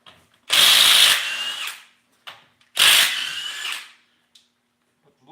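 Two loud bursts from an impact power tool remove lug nuts from a Chevy Express van wheel, each whirring rattle lasting about a second with a short pause between, plus a few small clanks.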